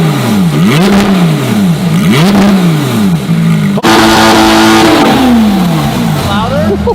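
A Porsche GT3 RS fitted with a titanium race exhaust revs hard several times, its loud engine note sweeping up and down, then climbs again in a longer rev. Voices are heard now and then.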